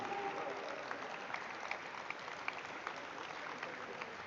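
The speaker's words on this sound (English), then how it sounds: "The applause should keep going," Sustained crowd applause at an IPO listing ceremony for Groww, a soft, even wash of clapping with scattered louder claps, somewhat distant, with a faint voice underneath.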